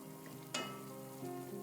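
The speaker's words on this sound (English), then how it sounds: "So I'm going to stir this." Jollof rice in a pot is stirred, a quiet simmering hiss with a sharp scrape of the spoon partway through and a softer stir afterward.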